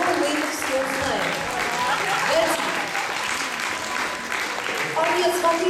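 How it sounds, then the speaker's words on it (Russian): Audience applause at a costume contest at a fantasy convention, a dense steady clapping from a crowd held for several seconds, with voices and cheers faintly mixed in. "Аплодисменты!"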